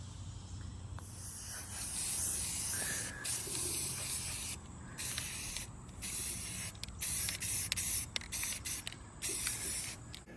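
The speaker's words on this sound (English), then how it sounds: "we are now going to put in a coating of black primer" Black primer is sprayed onto a model kit in long, steady hissing bursts with brief pauses between them, close and fairly loud.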